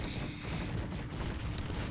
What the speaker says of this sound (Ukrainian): зараз буду шмаляти по гарматам щоб е, ліквідувати їх